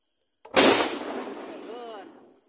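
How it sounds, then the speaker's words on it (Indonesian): A traditional bamboo cannon (lodong) fires one sharp, loud blast that rings out and slowly fades over about two seconds, recorded close by, with faint voices in the tail. "Tah, ieu lodong-lodong si buhun teh ieu tah."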